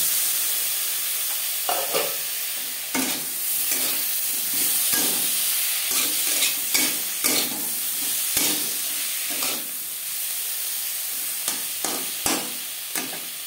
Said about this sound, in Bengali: ফুলকপি ও মশলার সাথে টমেটো 2-3 মিনিট নাড়াচাড়া করে নেওয়ার পর